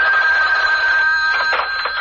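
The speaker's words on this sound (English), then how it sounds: "I'll have to get the phone." An old-style telephone bell rings steadily and loudly in a radio drama scene, a continuous metallic trill heard alone without talk.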